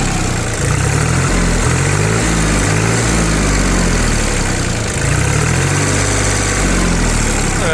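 An ISEKI TL2101 Japanese four-wheel-drive tractor with a loader idles loudly and close, a steady rhythmic diesel chug with a brief dip midway, running alone without talk.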